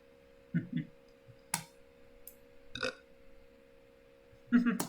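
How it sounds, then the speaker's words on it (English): A short throaty burp close to the microphone amid scattered clicks and small mouth noises, followed by another deeper burp at the end. "I burped."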